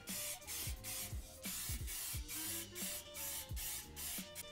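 Rust-protection primer sprayed in thin coats onto the underbody and screw points of a BMW E36, in rhythmic close bursts of hissing spray with short pauses between, with no talk.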